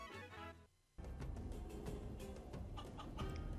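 Cartoonish chicken clucking in the video game Guacamelee! 2, quick busy clucks and pecking noises over game sounds after a brief drop in level.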